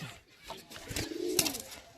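A Kalsira pigeon gives a soft, fairly faint single coo near a cage, standing out briefly against a quiet background.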